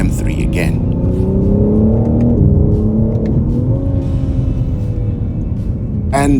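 A BMW G80 M3 Competition xDrive accelerates hard from inside the cabin, its engine droning in rising tones with gear shifts, heavy low rumble throughout.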